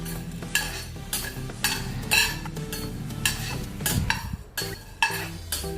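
Black pepper, cumin and fenugreek seeds dry-roasting in a pan, stirred with a utensil that scrapes and clacks in uneven bursts over a soft crackle, close and moderately loud.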